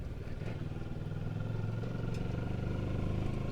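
Moto Morini X-Cape 650 motorcycle engine chugging along a backcountry route, a low, steady pulsing throb that stays even and moderately loud throughout, with no voices.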